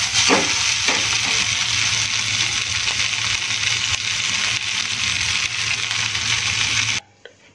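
Moong dal dhokla frying in a pan on a gas stove gives off a steady loud sizzle, with spoon stirs and scrapes through it, before the sound cuts off abruptly.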